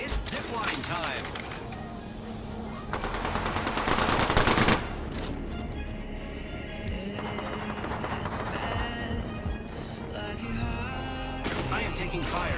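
Rapid automatic gunfire in the Apex Legends battle royale game rattles in dense bursts, with a louder spell midway, under a constant busy game mix and spoken voices.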